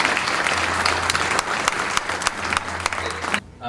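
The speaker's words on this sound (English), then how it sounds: "Round of applause." A banquet audience at a Phi Kappa Theta fraternity Man of Achievement event applauds longtime friends of the honoree, a dense, steady roar of clapping that holds for several seconds and then drops off abruptly at the end.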